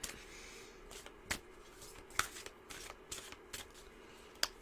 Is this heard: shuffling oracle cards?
yes